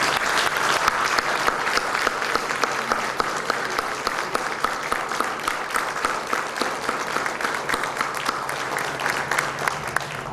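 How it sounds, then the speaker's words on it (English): A standing audience at a maritime symposium in Goa gives sustained applause, dense and steady for the full stretch, a broad wash of many hands clapping with no pauses. "may I request all of you to stand and give a round of applause to this team"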